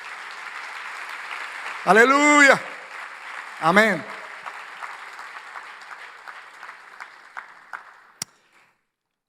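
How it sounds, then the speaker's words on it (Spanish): A church congregation breaks into applause during a Spanish-language sermon, a sparse patter of clapping that thins into scattered claps and fades out, interrupted by two sung or shouted exclamations from a voice. "Vamos a dar un aplauso fuerte al Señor."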